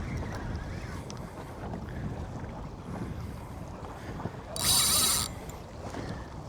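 A sea fishing reel's drag buzzes in one loud burst lasting under a second as a fish takes line while wreck fishing off Cornwall, over steady offshore wind and boat noise.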